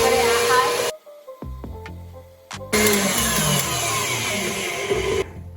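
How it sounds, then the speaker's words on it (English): An electric mixer whisks egg whites for meringue with a loud, steady whir that cuts out abruptly, pauses with a few knocks, then starts again at high speed before stopping. "we whisk it until it's really stiff"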